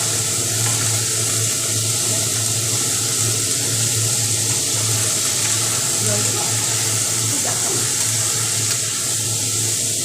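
Water splashes into a hot pan of vegetables and spices for a lentil-ball curry with potato and drumstick stems, a steady running, sizzling wash that fills the whole stretch with a constant low hum beneath.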